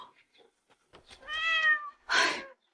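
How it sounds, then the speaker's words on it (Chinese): A stray cat meows close by, two drawn-out cries after a few faint rustles, clear against near silence. "原来是只野猫，差点把我魂都吓飞了。"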